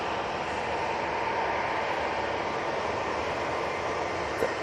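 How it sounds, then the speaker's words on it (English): A Eurowings jet bound for Hamburg, leased from Avion Express, at Manchester Airport: a steady loud broadband engine roar held throughout with no pauses. "Eurowings to Hamburg in the plain Jane livery. It's now coming on."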